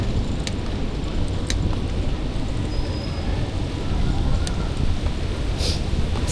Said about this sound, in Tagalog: umiihip ang hangin